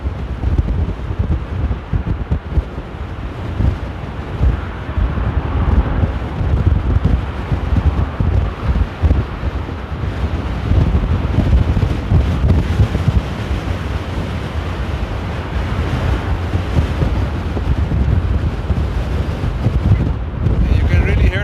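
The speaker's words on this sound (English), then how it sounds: "you can really hear that the winds are intensifying at the moment" Strong, gusty storm wind buffets the microphone in open air at Amsterdam Airport during Storm Conall, a loud continuous roar with rushing surges that persists throughout.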